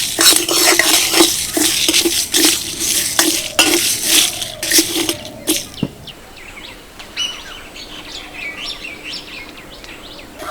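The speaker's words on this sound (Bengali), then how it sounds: "সবগুলো মশলা বেশ সুন্দর করে ভেজে নিয়েছি" Black mustard seeds and spices dry-roast in a pan, with loud scraping stirs and crackling that come in quick bursts and then die down into a quieter sizzle while birds chirp in the background.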